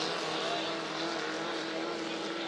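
A 2.5 litre racing boat in a hydroplane heat at Valleyfield rounds its final turn, its engine a steady, dense roar held at a constant level throughout.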